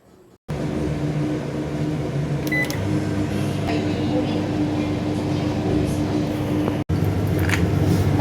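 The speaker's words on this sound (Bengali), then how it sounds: "এই সিঙ্গারাটা মাইক্রোওভেনে দু মিনিটের জন্য দিয়ে দিলাম" A microwave oven heats singaras for two minutes: a steady, fairly loud hum runs without a break after a click at the start, with one brief dropout near the end and a voice heard faintly.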